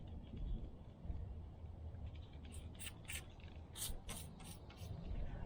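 Soapy water is spritzed from a spray bottle onto a tire's valve stem during a tire repair: a few quick, soft hissing squirts, then a second cluster of about four more, over a faint, steady background.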